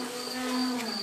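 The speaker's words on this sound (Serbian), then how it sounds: "Evo, ali mislim da čujete i cvrčak." A cricket chirps outdoors in a steady, high-pitched drone that stays level throughout. A lower, constant hum runs beneath it, fitting a neighbour's string trimmer running nearby.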